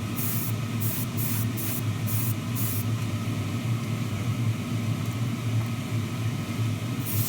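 Spray paint can hissing in a steady continuous blast over painted model car chassis parts for a Tamiya Ferrari LaFerrari 1:24 kit, with brief on-off bursts near the start, close and constant.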